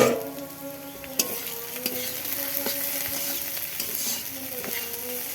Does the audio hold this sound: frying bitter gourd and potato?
yes